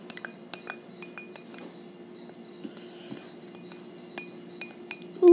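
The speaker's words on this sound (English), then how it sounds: "And now I'm going to mix it up with my spoon and mix it up." Spoon stirring homemade lip balm in a small plastic case, heard as light, irregular clinks and scrapes close up over a faint background hum.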